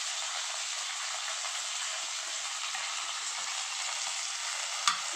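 Onion and green chilli frying in a hot pan, a steady close hiss of sizzling oil with a faint clink near the end.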